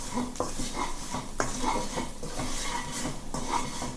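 Spices being stirred into crispy tofu in a pan, with repeated scraping and clinking of a utensil against the metal over a soft sizzle, close and continuous.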